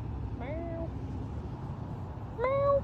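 A cat meows twice outdoors, a short mew followed about two seconds later by a louder, drawn-out one, against steady background rumble.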